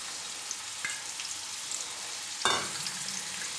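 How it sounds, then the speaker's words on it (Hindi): Finely chopped onions fry in a pan with roasted cumin, giving a soft steady sizzle close by, broken by a few stirring scrapes and one louder clatter midway, with no voices. "मिक्स करेंगे और हल्का सा ब्राउन करेंगे प्याज को।"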